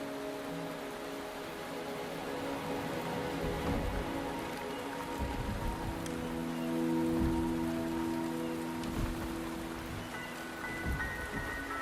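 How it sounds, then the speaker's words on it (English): Steady rain falling in the video game Wuthering Waves, a continuous hiss of drops hitting surfaces with soft low rumbles, holding at an even moderate level throughout with no voices. "The rain is subsiding, and the sky will soon clear."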